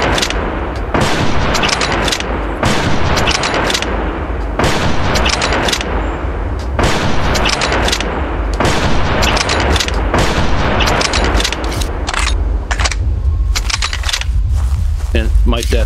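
Rapid, loud gunfire rings out nonstop against a T-Rex in the hunting video game Prehistoric Hunt, with sharp repeated shots and booming blasts in an irregular rhythm, close and dense throughout.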